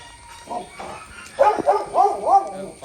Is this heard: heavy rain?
no